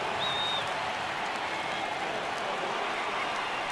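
Stadium crowd noise in the baseball video game MLB The Show 18, during a Red Sox at White Sox game: a steady, broad roar of cheering and applause rises as fans get up for a full count, lasting throughout.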